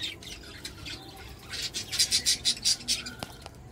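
Three male pet birds with blue-topped beaks squawk inside a cage, a run of sharp, rhythmic calls building near the end, close by and with no talk.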